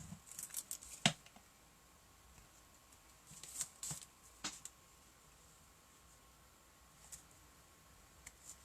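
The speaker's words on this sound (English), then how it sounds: "let's trim it. My scissors." Scissors snip paper being trimmed for a handmade watercolour card, a few faint, sparse cuts heard close up against a quiet room.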